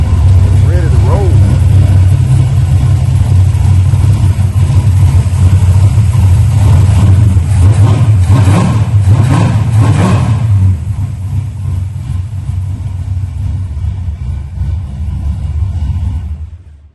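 Car engine fitted with a freshly tuned carburetor, loud and close, a heavy rumbling idle with repeated revs swelling and falling, then settling to a quieter idle; someone talks over it.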